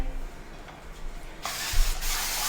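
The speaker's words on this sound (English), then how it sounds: "Give that a spray of oil. That's just olive oil." A short burst of hissing olive oil spray onto a pan erupts partway through, standing out over quiet kitchen background noise.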